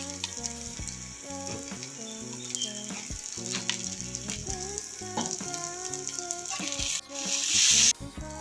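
Cashews, raisins, melon seeds and poppy seed paste fry in hot oil for a fried rice and alur dum dish, a steady close sizzle with faint stirring and a louder surge near the end.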